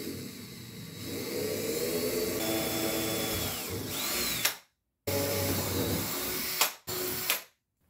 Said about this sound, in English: These are pilot holes, and next I'm going to drill with a 1/4-inch bit for the fair lead